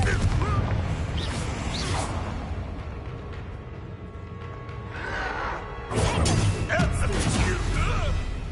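Explosive blasting spell from Hogwarts Legacy, heavy crashing bursts in a busy combat mix with a loud surge near the end, chaotic and sustained with no clear separation between impacts.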